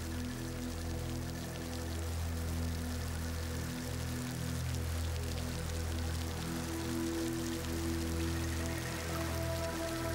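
Steady rain falls across Amazonian marshland, a dense continuous patter of drops on water and foliage alongside a low droning hum, evenly loud throughout with no voices.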